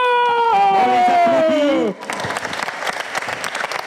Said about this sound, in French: On applaudit pour l'hippopo.